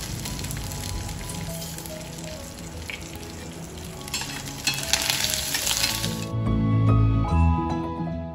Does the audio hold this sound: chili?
yes